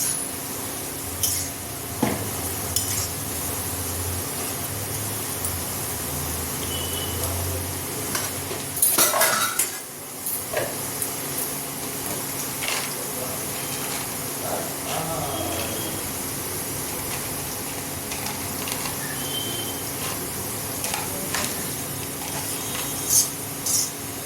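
Ghee heating in a pan for potato biryani, a steady faint sizzle and hiss mixed with clinks of metal utensils against cookware, no talk.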